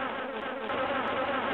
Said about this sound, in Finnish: En olekaan mikään ihan tavallinen kärpänen